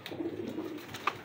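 Wild pigeon cooing in soft, low repeated notes, close by and fairly quiet, with a brief sharper chirp near the end.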